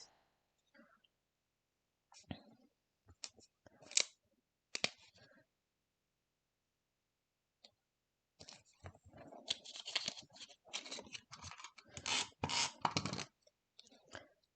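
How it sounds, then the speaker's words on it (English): Black scrapbook base paper, slightly larger than 12 by 12 inches, trimmed to size: a few scattered crisp snips and crinkles at first, then a dense run of rapid, close crunchy cutting and paper rustle. "So I'll cut that off."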